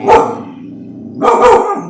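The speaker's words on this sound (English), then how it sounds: "Hey, that's a big puppy." A big puppy gives two loud, close barks about a second apart, each sharp and full with a short tail, with nothing else heard.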